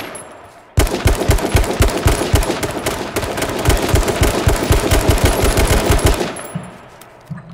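Rapid automatic gunfire in a shooter video game, loud and close, firing in a sustained rhythmic burst for several seconds before stopping abruptly.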